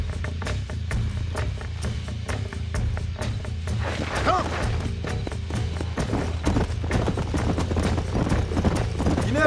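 Wild horses galloping in the video game Red Dead Redemption, with rapid rhythmic hoofbeats, continuous and fairly loud, over a low rumble with a faint whinny midway.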